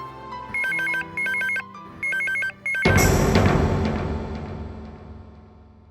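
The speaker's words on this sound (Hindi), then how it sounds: "राज के मोबाइल पर फोन लगाते हैं।" An electronic ringtone sounds in four repeated bursts as a mobile phone is called in a Hindi TV drama, then a loud dramatic crash hits and slowly fades out.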